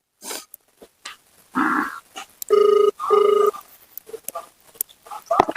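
A telephone rings twice in loud, steady electronic trills, close up, between scattered bumps and a short low growl-like sound.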